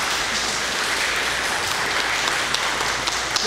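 An audience applauds steadily at a formal reception welcoming a consular representative, with dense, even clapping throughout and no voices over it.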